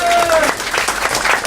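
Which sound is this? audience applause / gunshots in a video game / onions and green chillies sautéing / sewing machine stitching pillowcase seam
audience applause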